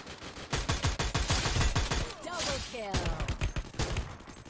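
Rapid bursts of automatic gunfire crackle loudly in Free Fire Max, a dense volley followed by scattered shots, with a man chattering excitedly over and between them.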